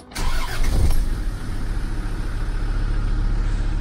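A Land Rover Discovery TD5 diesel engine with a misfire at idle, in neutral: a brief starting surge, then a steady, rough, low-pitched rumble running close and continuous with no talk.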